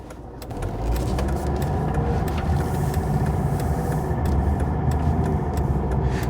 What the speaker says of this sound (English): So around town it does sound very agricultural, doesn't it? It's got a proper clatter to it.